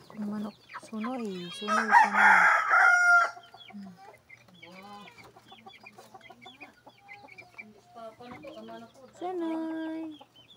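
A rooster crows loudly nearby, a long strained call, followed by quieter clucking and scattered fowl noises around it.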